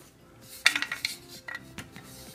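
A stock titanium Yamaha exhaust head pipe is handled, giving a cluster of bright metallic clinks and light rattles close by, then a few quieter taps over a faint background hum.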